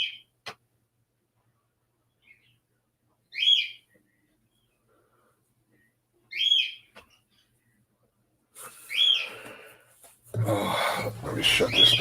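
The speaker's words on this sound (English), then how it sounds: "y'all hear my bird saying good morning" A pet bird chirps indoors in the morning, giving a few short, bright calls spaced seconds apart, with some rustling and a door-like clatter near the end.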